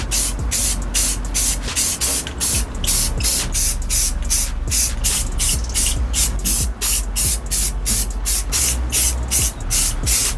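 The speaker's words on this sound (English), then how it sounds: "I'm gonna paint this a very mustardy yellow. It is called Gloss Protective Enamel." Gloss protective enamel in mustard yellow is sprayed onto a scooter deck in steady, loud hissing bursts with short regular pauses between passes, close to the microphone.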